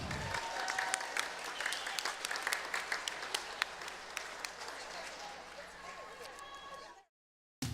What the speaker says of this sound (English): And another big round of applause.